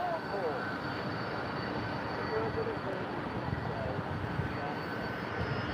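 A Virgin Atlantic airliner on a transatlantic flight passes overhead as a steady, broad roar of jet engines that holds at an even level throughout, with no talking.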